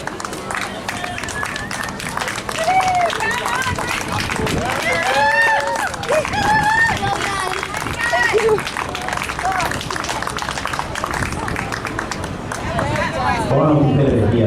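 Spectators at a SunSmart Triathlon finish in Bunbury clap and cheer steadily beneath a loud announcer on a public address system, with crowd babble throughout.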